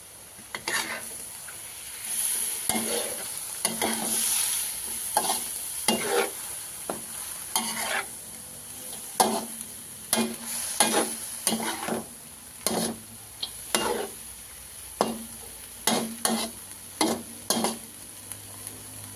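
Sand whiting pieces stir-fried with chilli in a pan, steady sizzling under gentle, irregular scrapes and taps of a spatula against the pan, close and moderately loud.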